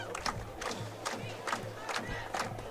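Home crowd at a high school varsity football game roars and cheers after a score, a dense, steady wash of many voices with rhythmic swells of shouting, moderately distant.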